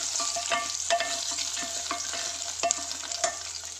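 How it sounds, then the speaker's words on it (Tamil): Hot tempering with ginger and curry leaves sizzles as it is poured and stirred into curd for curd rice, a close, crackling fry with scattered spoon scrapes and sharp pops over a steady hiss, no voices present. "தாளிச்சதை நம்ம தயிர் கூட சேர்த்துக்கலாம்."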